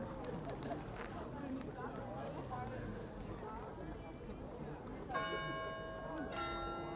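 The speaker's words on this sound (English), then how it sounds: "As the bells go." Church bells ring at the Esslingen medieval Christmas market, starting partway through as bright sustained tones over the busy crowd chatter and nearby talk of the outdoor market.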